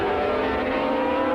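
Grand Prix racing motorcycle with a V4 engine at full throttle during a 1985 international series heat at Calder, giving a loud, steady high-pitched engine howl that holds constant without a break.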